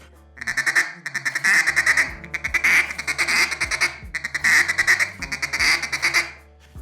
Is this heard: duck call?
yes